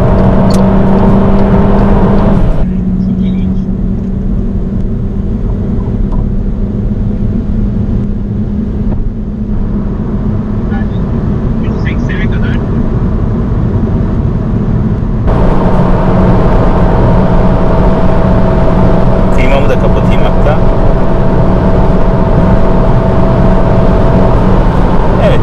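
An Audi Q2 35 TFSI engine is held at high revs under hard acceleration, a loud, steady droning whine heard from inside the cabin, dipping briefly during a gear change before climbing again.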